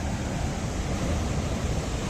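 Huka Falls near Taupo, New Zealand, sends a huge volume of water over a nine-metre drop, making a constant, dense, close roar of rushing water with no voices.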